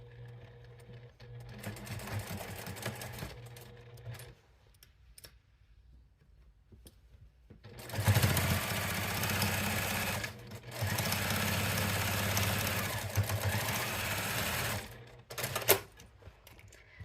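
Sewing machine top stitching a zipper pouch made of fabric with fusible interfacing, running in two steady whirring bursts with a quiet pause between and a lighter stretch of stitching at the start.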